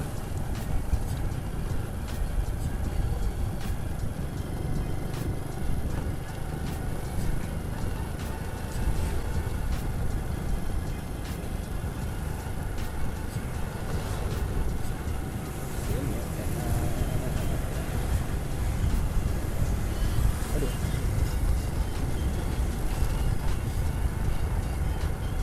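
An old Honda Astrea Grand motorcycle engine runs steadily on a test ride, a low, continuous rumble with wind rush from riding, fairly quiet and even throughout.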